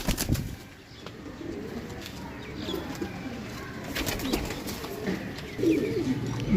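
A group of pigeons coos softly in low, repeated throaty calls, with light rustling and a few brief clicks around them at close range.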